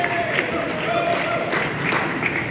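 An audience at the ROWDYs awards applauds the winners with a steady, even wash of clapping that lasts throughout, and a voice is faintly heard over it.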